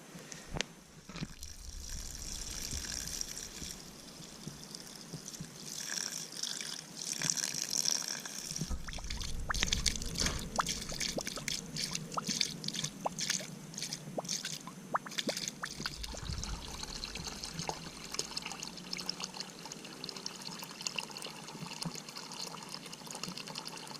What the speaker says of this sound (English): pour water down the end of this at a bit of pressure, try and get any dirt that's in here and any sediment that's in here out